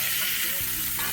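Steak fat sears in a hot pan with a steady bright sizzle and hiss, close and loud for a brief moment.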